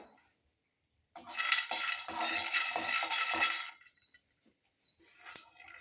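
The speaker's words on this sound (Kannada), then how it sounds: "ನೆಕ್ಸ್ಟ್ ಈಗ ಕಡಲೆಕಾಯಿ ಬೀಜ ಹಾಕೋತಾ ಇದ್ದೀನಿ" Peanuts poured into a pan for dry roasting, a dense rattling clatter of nuts hitting metal for a couple of seconds, then a few faint scrapes and settling clinks.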